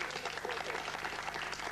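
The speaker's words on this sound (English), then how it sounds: "Give them a round of applause." Audience applause for a concert lighting crew fills the space, a dense, steady wash of clapping that holds at an even level for under two seconds.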